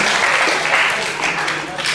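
Brief, loud burst of close applause from a Dharma talk audience, thick and continuous for about two seconds with voices mixed in.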